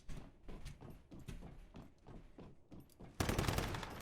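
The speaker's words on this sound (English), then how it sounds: "Now we just need to go up and shoot it." Rapid gunfire from the video game Once Human, a run of loud repeated shots at a target that swells into a dense, sustained burst near the end.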